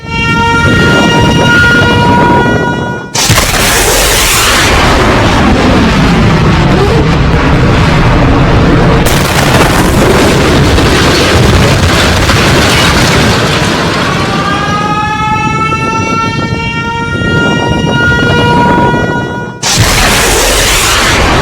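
Missile attack footage from the Pakistan-Afghanistan conflict: loud, distorted booming blasts and a heavy sustained roar, with wailing tones rising and falling through it, all very close and overpowering, with no talking.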